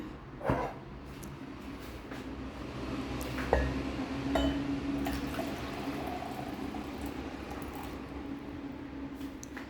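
Turmeric tea strained into a glass, a faint close trickle of pouring liquid with a few clinks of glass and utensil.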